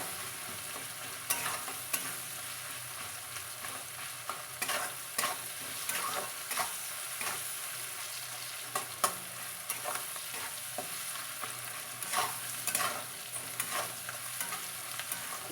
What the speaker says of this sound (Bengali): পেঁয়াজটা একটু লাল লাল হয়ে এলে টমেটো কুচি দিতে হবে